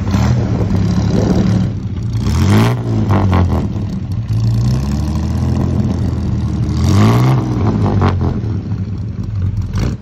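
Engine of a 1955 Chevy 3100 first-series pickup truck revving, loud and close, with two rising-and-falling throttle blips over a steady rumbling idle and some mechanical clatter.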